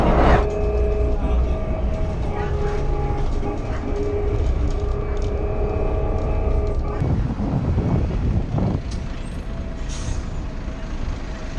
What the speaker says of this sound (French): Un tramway sur pneus.